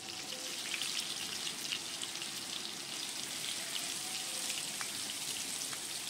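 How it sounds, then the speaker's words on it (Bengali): Five or six whole potatoes, cut and frying in white cooking oil, give off a continuous dense sizzle with fine crackling pops, close and even throughout, with no talking. "এবার আমি 5-6টা আলু, গোটা আলু কেটে রেখেছিলাম, সেই আলুগুলো ভেজে নিলাম"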